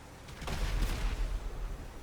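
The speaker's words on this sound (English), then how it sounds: "Whoa, that was a cool explosion." An explosion in a monkey-versus-pigeon video game bursts as a dense, rumbling blast with crackling debris that swells and rolls for about two seconds before easing off.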